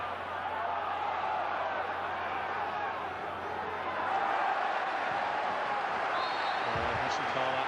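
A football crowd at a 1999/00 Division 2 match between Gillingham and AFC Bournemouth applauds player Gordon Watson, a steady broadband roar of clapping and cheering that swells slightly midway, with a commentator talking over it.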